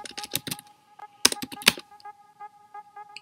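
Typing a command on a computer keyboard: a quick run of sharp, close key clicks in irregular bursts, with a steady tonal hum sustained underneath.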